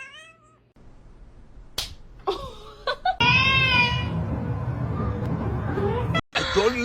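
A kitten meows close by, first with a few short high cries and squeaks, then a long, loud, drawn-out wailing meow that carries on for several seconds before a final cry.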